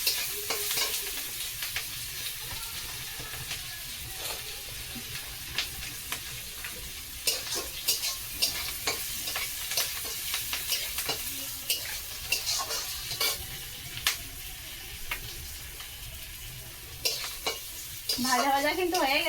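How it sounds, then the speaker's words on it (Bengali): Garlic cloves sizzle in hot oil while being stirred for biryani, with a steady frying hiss and frequent scraping clicks of a spatula against the pan, close and continuous throughout. "রসুনের কোয়াগুলো দিয়ে ভালো হালকা নাড়াচাড়া করে নেবো ভালো করে"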